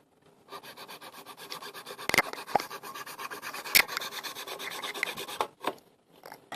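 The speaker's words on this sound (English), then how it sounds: "take my file and file down these 4 tabs" A hand file rasps back and forth across the plastic tabs of a case in quick, even strokes, close and clear, with a couple of sharp knocks partway through and no talking.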